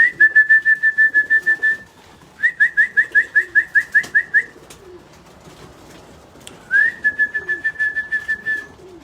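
Racing pigeons in a loft give repeated rhythmic whistling coos in three close bursts of rapid pulses, with a few faint flutters and soft shuffles between calls and no talking.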